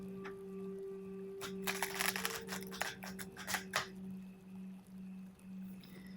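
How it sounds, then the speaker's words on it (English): A Rider-Waite tarot card deck shuffled quickly, giving a short cluster of papery riffling bursts in the middle over a steady low electrical hum, with no talking. "I'm going to shuffle on the side here super fast."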